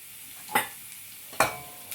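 A thin fish curry sizzles in a pan as spices go in, with a low steady fry broken by two sharp hissing bursts of stirring, close and without talk.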